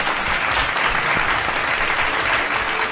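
Dense, steady applause from a crowd fills the whole stretch, loud and sustained without breaks.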